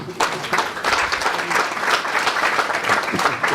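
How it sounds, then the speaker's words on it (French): Dense, loud audience applause for a speaker at a French talk on the gestural origins of language, a steady wash of many hands clapping throughout without pause. "on a l'habitude d'applaudir avant, même si c'est pas bien, mais au moins on applaudit."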